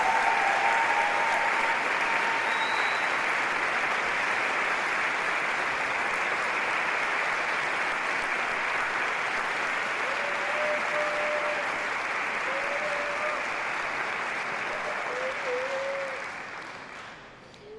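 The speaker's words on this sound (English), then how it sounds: "let's give them a tumultuous round of applause" A large graduation audience at a university degree ceremony in Edinburgh gives a long, sustained round of applause, a dense steady roar of clapping that holds for many seconds before tapering off near the end.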